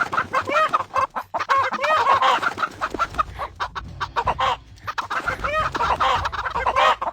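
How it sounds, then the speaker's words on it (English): Many chickens in a video game cluck and squawk in busy, overlapping bursts, close and fairly loud, with short pauses between clusters. "Chickens!"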